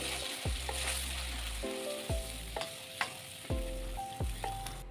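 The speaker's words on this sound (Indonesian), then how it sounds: "panaskan minyak, masukkan bumbu yang sudah dihaluskan." Ground spice paste sizzles in hot oil for a Medan-style noodle soup, a constant crackling fry broken every second or so by the scrape and clink of a stirring utensil against the pan.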